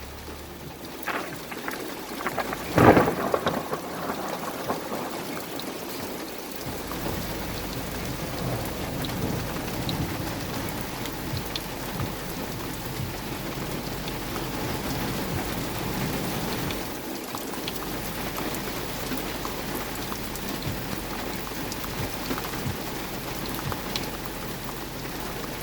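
Heavy rain pours in a thunderstorm in Littleton, Colorado, a loud close thunderclap cracking early and then a steady dense roar of rain on surfaces continuing throughout, with no talking.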